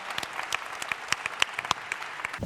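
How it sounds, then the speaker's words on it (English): Audience applause for a conference panel at a Bitcoin SV event, a steady patter of many hands clapping, fairly close and sustained throughout with no talk over it. "Let's give him a round of applause to our panel."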